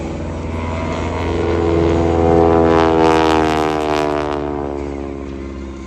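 An aerobatic airplane flies a hammerhead at an air show in Columbus, its propeller engine droning in a strong harmonic whine that swells to a peak midway and then eases off, with no voices.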